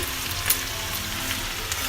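Bay leaf, cloves and whole cumin frying in hot oil for a village-style Assamese chicken curry, giving a steady, close crackling sizzle with a few faint pops throughout.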